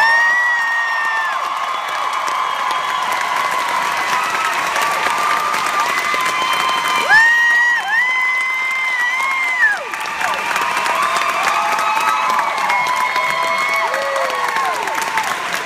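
A concert audience applauds and cheers, with a sustained roar of clapping, shrill whistles and whoops rising above it, loud and continuous across the whole stretch.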